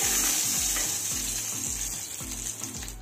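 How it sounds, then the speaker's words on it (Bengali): Pieces of fish frying in mustard oil in a pan, a steady bright sizzle that runs continuously and close, with repeated low clanks and scrapes of a spatula against the pan. "এই মাছগুলোও কিন্তু ঠিকঠাক ভাজা হয়ে গেছে"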